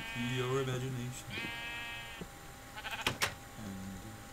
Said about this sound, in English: Come with me, sheep.